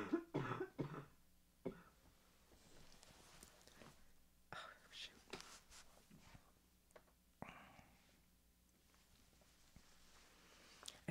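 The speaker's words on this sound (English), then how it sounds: "once you try to stop coughing, it only makes it worse" Several quiet coughs and throat clearings come in short irregular bursts, close to the mic, with soft whispered speech between them in an otherwise hushed room.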